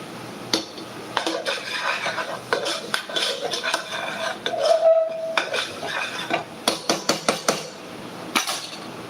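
Spices frying in a pan, with a faint sizzle under repeated metallic clinks and scrapes of a spoon against cookware, close and fairly loud, ending in a quick series of taps.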